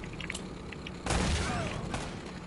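Gunfire crackles in an Uncharted shootout as a dense burst breaks out midway, broadband and sustained over steady game ambience, with a second smaller flurry following.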